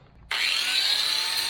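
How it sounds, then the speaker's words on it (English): A grinder cuts through the gel coat and base coat on a fiberglass speedboat hull. It starts abruptly and holds a loud, steady, abrasive whir. "So what I'm doing here is grinding through my base coat and gel coat to expose all the fiberglass."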